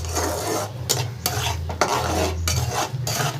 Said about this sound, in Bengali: এর মধ্যে আমি বেটে রাখা পাতাটাকে দিয়ে দেবো সব এবার একসাথে একটু ভাজা ভাজা করে নেব